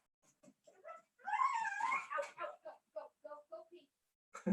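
A dog whimpers and whines in a string of short, high, nasal cries and yips close by, fairly quiet, with breathy pauses between the sounds.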